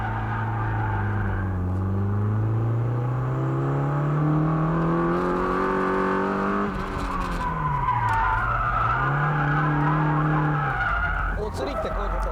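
A drifting car oversteers and skids, its tires squealing in long wavering howls over a revving engine, the pitch rising and falling as the slide continues for about twelve seconds.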